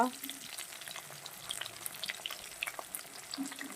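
Onion and chili frying in a pan give a soft, steady sizzle with light crackles and occasional stirring scrapes, fairly quiet and close.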